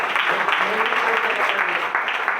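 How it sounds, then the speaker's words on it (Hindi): Strong applause from the audience at a Tiens business sharing and closing event in Sonipat, a steady, loud wash of clapping with a faint voice briefly showing through underneath. "मैं चाहूंगा एक बार जोरदार तालियां"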